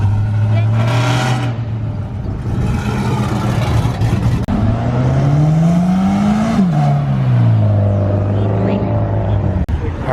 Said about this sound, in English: here comes our grand finale. Got the GT500 and the Ferrari.